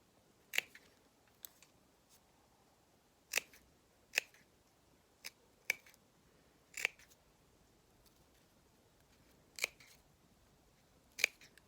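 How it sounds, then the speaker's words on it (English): Scissors snip through paper cutting out small detailed shapes, a series of crisp, close snips spaced unevenly with quiet pauses between cuts. "now I'm just going in, cutting out some of those fiddly bits"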